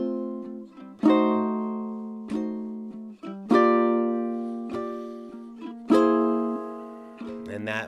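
A ukulele strums and picks through the second line of a song in jazzy chords, with a series of bright, ringing strums that decay between them, played alone and close.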